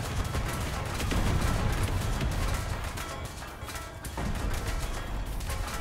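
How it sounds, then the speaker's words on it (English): Artillery barrage falling in War Thunder during a rank 2 tank match: a dense, continuous roar of rumbling blasts and crackling gunfire, loud and steady throughout, with no voices. "Let's watch the artillery drop."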